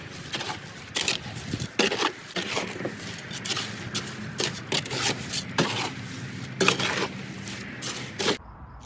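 Concrete mixed by hand in a wheelbarrow from a bag of cement and about two and a half liters of water, with repeated close scraping and rubbing strokes in an uneven rhythm and no talking.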